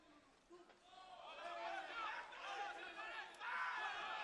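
Crowd at an MMA fight night in Dubai roaring and shouting in reaction to inside punches, rising from a murmur to a sustained loud cheer, with a commentator talking over it.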